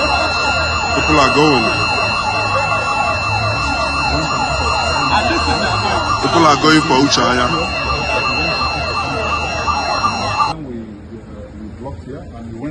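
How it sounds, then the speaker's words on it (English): A siren mounted on a wall wails continuously with a rising and falling tone, loud and close, while people talk over it; it cuts off abruptly near the end, leaving background noise. "he went and put a siren"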